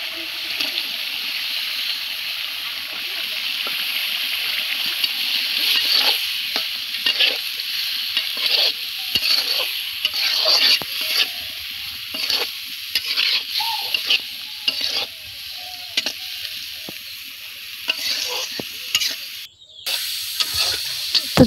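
Raw prawns frying and being stirred in a pan of spices during village-style cooking, with a steady sizzle, repeated scraping stirs and occasional wet splatters, close and continuous with no talking.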